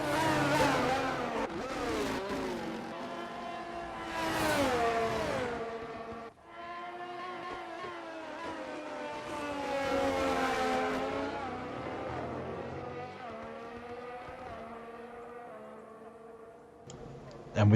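A Ferrari Formula 1 car in a racing video game at the Bahrain Grand Prix, its high-pitched engine whining and rising and falling through gear changes, steady and fairly loud throughout.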